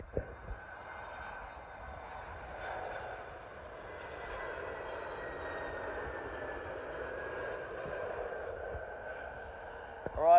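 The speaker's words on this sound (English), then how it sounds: "Arrived in now is a British Airways Airbus A321neo from Nice." A British Airways Airbus A321neo from Nice arrives at London Heathrow, its engine roar a steady moderate rumble with a faint whine, heard from a distance and continuous throughout.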